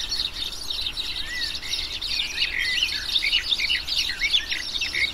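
Small finch, siskin or greenfinch, calling outdoors: rapid, bright chirps and twitters repeating continuously over a soft background hiss.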